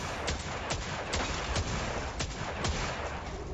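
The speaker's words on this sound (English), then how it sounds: "Well, I took that first guy out with my hand cannon." Hand cannon fire in a video game boss fight, sharp shots cracking out roughly every half second to second, about seven in all, over a dense, steady wash of game noise.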